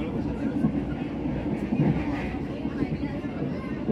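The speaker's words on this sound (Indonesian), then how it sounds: "Nah, ini kita sudah di kereta ya." Low rumbling of a moving commuter train bound for Cikarang, heard from inside the carriage, with steady rolling noise and faint murmuring voices in the background.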